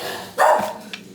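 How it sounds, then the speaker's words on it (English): A small ten-year-old Cavachon dog gives a single sharp bark, close and fairly loud, followed by a faint softer yip. "sorry, that's my dog that's barking."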